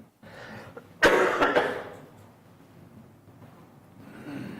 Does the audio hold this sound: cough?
yes